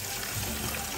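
Steady running water from a sink while kangkong (water spinach) is washed in a home kitchen, a soft continuous splashing wash with no pauses.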